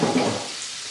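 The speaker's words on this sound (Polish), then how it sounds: "Smażymy z jednej" Savory chruściki pastry strips fry in hot, preheated fat, giving a steady, close hiss and crackle that is strongest at the start and settles slightly softer, with no talking.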